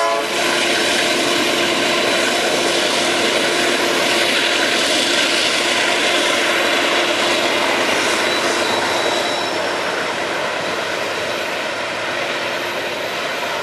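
A GE C44i diesel locomotive of the Brazilian railway ALL roars past at close range with a loud, sustained engine drone and broadband rumble that holds for the whole stretch, with no voices over it.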